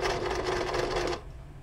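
A Brother LS-2020 sewing machine stitches a buttonhole in a fast, steady mechanical whir lasting about a second, then stops abruptly, leaving quiet room noise.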